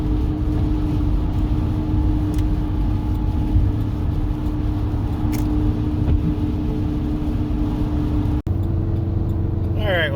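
An old bus that was only gotten running the day before, driving steadily down the road with a constant loud engine drone and road rumble filling the interior, briefly cut near the end.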